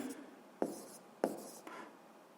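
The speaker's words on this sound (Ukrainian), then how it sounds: "Отже, пишемо відповідь." A pen writes out a physics answer by hand, with soft scratching strokes and three sharper taps against the paper, close and quiet.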